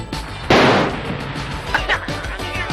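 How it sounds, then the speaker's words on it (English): A single sharp gunshot bang rings out during a movie gunfight, with its echo tailing off. Shouting and movement come after it. "a regular speed gunfight breaks out, and Joe gives Frank some sage advice"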